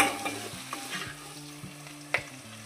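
Home-grown green chilies and cumin seeds frying in oil in a pan, a soft continuous sizzle with scattered spatula clinks and stirring scrapes, close by without voices.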